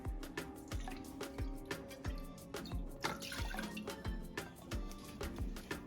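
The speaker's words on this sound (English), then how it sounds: "I'm going to be putting a half a cup of sake." Sake poured into a saucepan for homemade salmon teriyaki sauce, heard as a steady liquid stream punctuated by a regular series of distinct drips and splashes, close and moderately quiet, with no talking.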